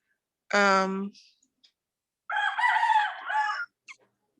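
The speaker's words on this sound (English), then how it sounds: "Yeah, those are chickens. We have one rooster." A rooster crows once, loud and close, followed after a pause by a longer, wavering crow-like call; brief clucks scattered between.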